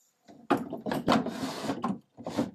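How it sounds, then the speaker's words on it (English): A wooden desk drawer with loose joinery is pulled out, giving several close, rough wooden scraping and sliding bursts separated by short pauses, with no talk over it. "as I pull this out, I'll just check and make sure all the joinery on the drawers is tight"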